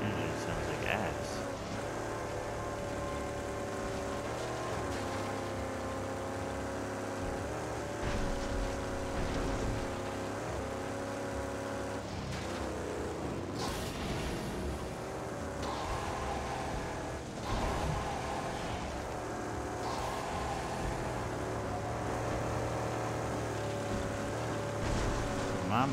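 Car engine in the Mad Max video game, a steady rough drone running throughout under game music and effects, with someone talking over it.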